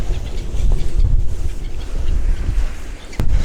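Strong wind at the sea in Anapa roars steadily into the microphone as a loud, continuous low rumble with gusty swells, and a sharp buffet strikes near the end.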